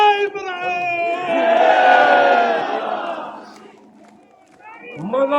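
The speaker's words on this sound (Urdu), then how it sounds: "مزہ آ گیا ایسے نعرے سن کے." A large crowd at a political party convention rally in Karachi roars out a slogan, the shout swelling and then fading, followed by a single amplified voice speaking at the end.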